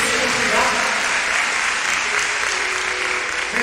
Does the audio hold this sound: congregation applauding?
yes